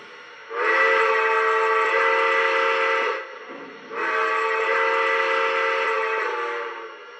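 Two long, loud blasts from a Lionel New York Central Dreyfuss Hudson model train whistle, each a steady multi-tone chord, separated by a short pause.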